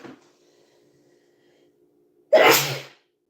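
A single sharp sneeze bursts out after a quiet stretch, close and loud.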